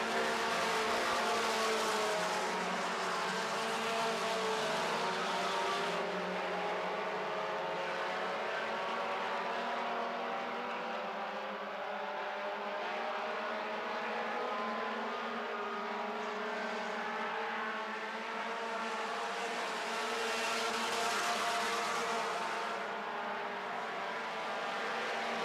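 4-cylinder stock cars racing in a feature event, a steady loud engine roar that swells and fades as cars pass, sustained throughout with no talk.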